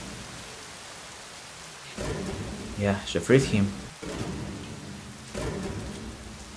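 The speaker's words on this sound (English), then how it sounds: "Well, that's the storm." Rain falls steadily during a thunderstorm in an anime episode, with low rumbles of thunder, while people talk over it in the foreground.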